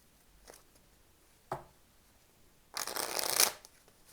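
Tarot cards from a Lisbon deck and a Spanish deck are handled up close, with two brief soft snaps and then a burst of riffle shuffling lasting under a second in a quiet room.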